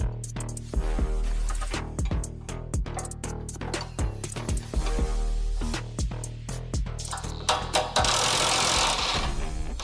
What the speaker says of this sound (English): I don't know why, but I love the sound of an impact wrench.